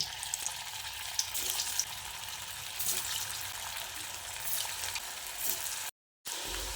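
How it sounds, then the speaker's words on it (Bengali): Soybean kababs frying in hot oil in a home kitchen, giving a steady, close sizzle and crackle with occasional stirring, broken by a brief silent gap near the end. "ওই একইভাবে বাকি কাবাবগুলোকেও আমি ভেজে নেবো"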